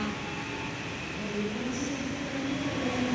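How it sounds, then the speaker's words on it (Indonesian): The Gaya Baru Malam Selatan passenger train pulls out of Kroya station with a steady rolling rumble of wheels and carriages, faint squeals rising over the continuous noise as it gathers speed. "Kereta api Gaya Baru Malam Selatan berangkat stasiun Kroya."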